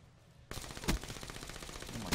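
Automatic gunfire in Black Ops 3 bursts in suddenly after a short quiet lead-in and then rattles on rapidly, with a couple of sharper shots standing out in the stream.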